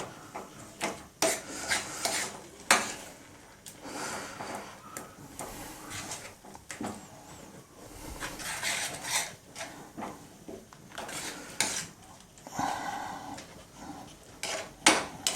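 A spoon scrapes and rubs through an orange and barfi mixture in a pan, making irregular bursts of stirring and clinking against the metal, close up and fairly quiet, with short pauses between strokes.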